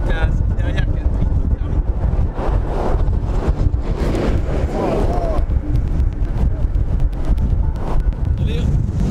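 Strong wind on Route 66 during storm chasing buffets the microphone with loud, rumbling gusts, while a voice speaks briefly in French under the roar.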